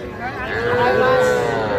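A young Sahiwal bull calf, about two and a half months old, lows loudly and close at a cattle market, one sustained moo over background crowd noise.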